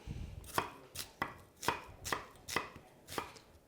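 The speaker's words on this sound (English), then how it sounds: "Red onion, roughly chopped." A knife chops red onion on a board in about eight crisp, evenly spaced strokes, close and fairly quiet, with no talking.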